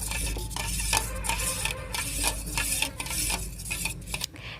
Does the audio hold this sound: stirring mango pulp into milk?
yes